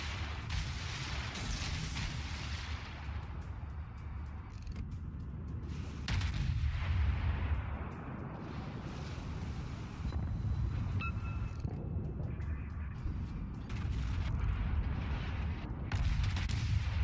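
Sustained gunfire fills a video game firefight as a group opens up on an enemy, with dense, continuous shooting and heavy booming bursts that swell louder several times, no talking.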